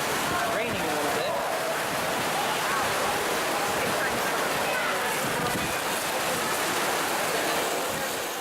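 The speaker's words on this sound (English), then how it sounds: "Seems to be raining a little bit." Steady rain falls outdoors at the Woods and Water Show, a continuous broadband hiss of drops on surfaces that holds level and fairly loud throughout, with faint voices mixed beneath it.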